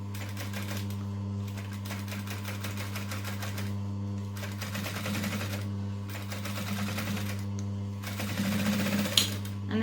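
Sewing machine stitching slowly around the curve of a zipper on a fabric dumpling pouch with lining, a steady continuous motor drone with rhythmic needle chatter running throughout, close and moderately loud with no speech.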